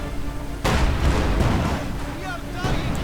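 Artillery fire in the Company of Heroes 2 video game, a sudden heavy boom followed by rumbling blasts and a second thud near the end, loud and close, with talking over it.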